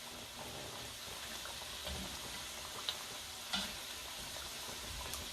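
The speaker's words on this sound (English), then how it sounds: "this is vegetable oil that I'm frying these in" Quiet, steady sizzle of empanadas frying in vegetable oil, with a couple of sharp little pops and soft clinks along the way.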